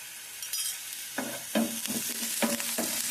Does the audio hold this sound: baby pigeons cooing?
no